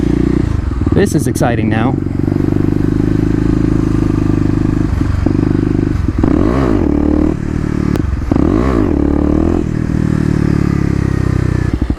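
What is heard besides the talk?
Kawasaki KLX250 motorcycle riding in second gear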